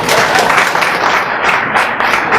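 An audience at a gathering on Indian women's liberation claps for someone speaker as she comes forward, a dense, steady wash of applause filling the room throughout, with no speech over it.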